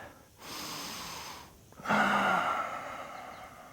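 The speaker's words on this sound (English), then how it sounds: "Deep breathing into the belly." During a yoga session, deep belly breathing comes as a slow inhale and then a longer, fuller audible exhale, close and fairly soft with no talk.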